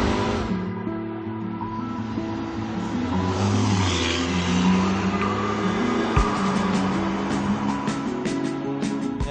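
A Ferrari California T driving on a road in city traffic, its engine a steady, fairly loud drone with shifting tones as the car moves along.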